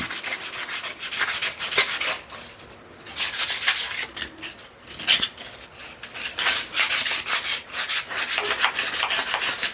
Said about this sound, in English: I always recommend sanding these crankshaft ends before you pull your sump off